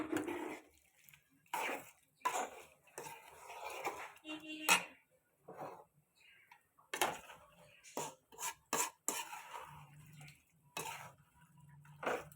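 Boiled country chicken is stirred into gravy in a pan, giving scattered scraping and clinking strokes of a spoon against metal, fairly close and irregular, with soft wet sounds between.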